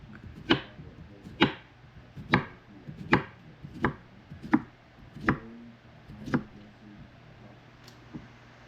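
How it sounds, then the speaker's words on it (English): A knife slices through a partial cucumber on a cutting board, making about nine crisp, evenly paced chops roughly a second apart. The cuts are close and clear over a low background hum. "I've got this partial cucumber here, and I'm just gonna slice it up"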